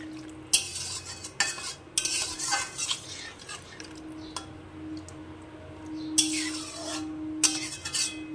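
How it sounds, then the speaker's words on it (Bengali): Vegetable curry in a pan is stirred after water is added, with bursts of scraping and clinking utensil against metal, separated by quieter stretches over a low steady hum and faint simmer. "দিয়ে ভালো করে নেড়ে চেড়ে আবার একটু ঢাকনা দিয়ে পুরো রান্নাটা রেডি করে নেব।"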